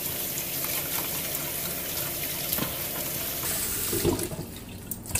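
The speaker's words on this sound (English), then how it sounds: "I'm going to wash the fish as well." Running tap water pours steadily into a sink while fish is washed for a Nigerian bitterleaf and waterleaf soup, a continuous close splashing gush with brief louder splashes near the end.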